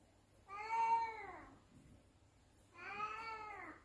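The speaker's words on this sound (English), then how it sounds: "The cats." Two drawn-out meows sound clearly a couple of seconds apart against a quiet background, with no one speaking.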